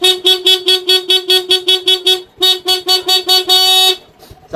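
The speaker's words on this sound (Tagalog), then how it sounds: "Ayan, magbusina tayo." Horn of a Honda Wave R110 motorcycle with a voltage fault, sounded near and loud in a rapid series of short even toots, a brief pause, then more toots ending in one longer blast.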